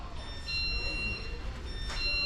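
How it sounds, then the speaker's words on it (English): A steady high electronic alarm tone sounds continuously over a busy indoor background of a Harbor Freight tool store, with faint voices nearby. "the alarm went off"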